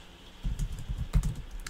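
Fast typing on a small computer keyboard that differs from a Mac keyboard, a close, rapid run of soft clicking keystrokes with brief uneven pauses, heard alone.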